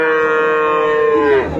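A cow at a rural cattle market in Aftabganj, Dinajpur gives one loud, close, sustained moo that bends downward at the end.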